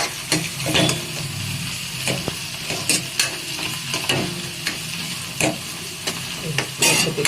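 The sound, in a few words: ginger garlic paste frying and stirred in a pan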